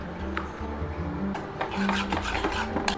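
Eggs and pieces of fish are stirred together in a bowl to make a Chettinad fish omelette batter, giving soft scraping and clinking rubs against the bowl, fairly quiet and irregular.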